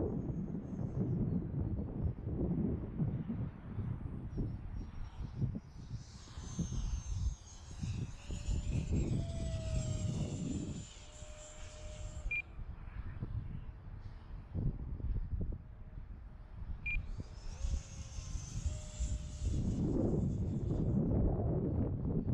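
An electric ducted fan RC jet with an afterburner flying in gusty wind, its high whining fan tone rising and falling as it passes, over heavy wind buffeting on the microphone.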